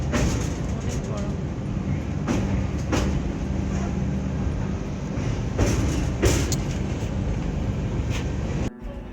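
Loud, steady rumble of a vistadome train coach rolling on rails between Bangalore and Udupi, with periodic clanks and brief bursts, plus faint voices in the carriage; the noise drops abruptly near the end.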